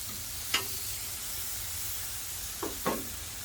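Beef short ribs frying on a flat top grill: a steady quiet sizzle with a couple of brief louder hisses and spatters, heard close and without any talking.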